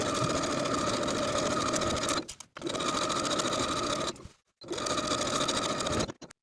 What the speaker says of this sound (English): Now I'm going to edge stitch close to that upper inner fold all the way around the bottom hem.